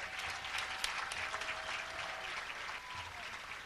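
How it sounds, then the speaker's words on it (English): Audience applause at an education and achievement awards ceremony in Muskegon, a continuous wash of many hands clapping with faint tonal cheers or voices mixed in, steady and moderately loud. "give her another round of applause."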